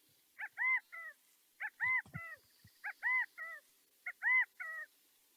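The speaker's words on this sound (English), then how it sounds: "great place to hear the California quail" California quail in coastal fog-belt chaparral giving four clear repeated three-note calls, the middle note loudest, at a steady spacing with a soft thump between, moderately near and alone.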